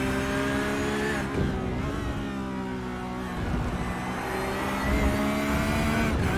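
A GT3 race car at full throttle on track, its engine a loud, sustained roar with shifting harmonic pitch and brief swells as it pulls through a corner, no voices heard.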